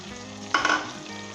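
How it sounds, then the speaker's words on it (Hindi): Masala with chopped tomatoes fries in a pan for keema karela with beef mince and bitter gourd, a steady low sizzle that swells into a louder burst of crackling hiss midway, then settles back, with no talking. "इस मसाले को भूनना है"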